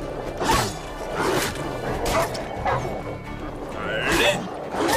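Wild dogs in The Witcher 3 barking in a series of sharp yips and barks, several bursts spaced through the scene amid combat whooshes, with a person talking over the game.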